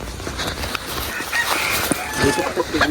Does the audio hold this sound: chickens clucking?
yes